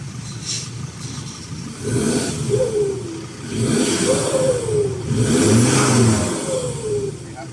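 A Ford Everest 3.2 Titanium fitted with an HKS carbon-tip exhaust revs several times, each rise and fall distinct and smooth, heard from a short distance and fairly loud.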